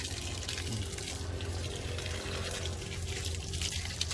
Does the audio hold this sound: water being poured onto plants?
yes